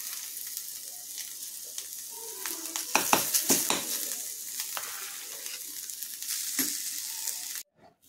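Crushed potato fries in oil with turmeric and salt for cut vada, a continuous close sizzle broken by several sharp scraping stirs and clatters of a spoon against the pan in the middle, then ending abruptly.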